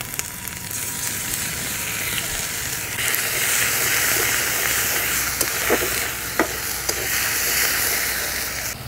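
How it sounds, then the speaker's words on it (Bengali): Onion paste and cumin-chilli paste sizzling in hot oil with lightly fried tomatoes for a Bengali rohu fish curry, a steady close, loud hiss with a few sharper crackles toward the end and no talking. "এবার আমি মশলাগুলো দিয়ে দেব। দিয়ে দেব পেঁয়াজ বাটা, দিয়ে দেব জিরে লঙ্কা বাটা,"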